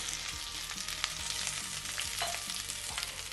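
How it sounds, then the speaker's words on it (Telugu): Curry leaves crackling and sizzling crisply in hot oil in a pan during spice powder preparation, a steady close frying hiss with scattered sharp pops and stirring scrapes, no voices. "కరివేపాకు మాత్రం బాగా వేయించాలి ఆకు మెత్తగా లేకుండా కర పెళపెళమని సౌండ్ వచ్చే వరకు వేయించుకోవాలి"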